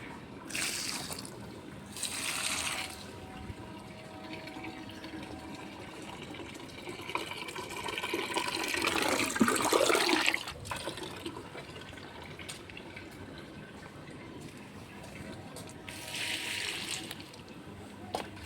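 Water poured from a container onto garden plants, including a bitter gourd vine, comes in several short splashing bursts with a longer trickling pour in the middle, faint and close by.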